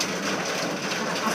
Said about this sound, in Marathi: असा भरपूर पाऊस पडतोय.